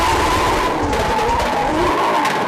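A small BMW drifts at a Red Bull Car Park Drift world final in Saudi Arabia, its tires skidding in a loud, steady roar with engine noise close by.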